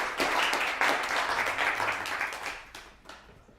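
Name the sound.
applause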